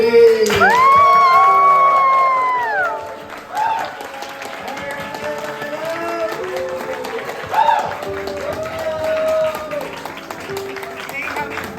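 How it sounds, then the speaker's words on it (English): Applause and cheering from a crowd of students and alumni at a secondary school farewell as a teacher cuts her cake, with voices and shouts mixed in over steady clapping. "Let's give Madam round of applause as she cut the cake."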